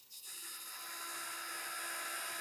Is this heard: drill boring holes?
yes